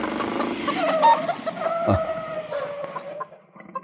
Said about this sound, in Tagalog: Nagado ti manok da.